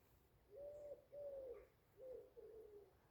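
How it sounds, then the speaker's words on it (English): Soft, distant cooing from a pigeon or dove repeats in four short phrases over a quiet morning camp background near Talacre Abbey, with no talking. "There isn't anything quite like waking up to birdsong."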